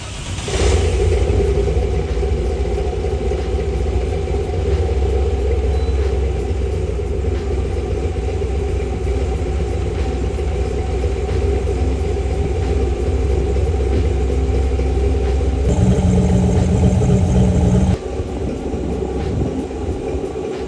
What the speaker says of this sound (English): So I swap the firing order, hit the key again, and it runs. It runs strong.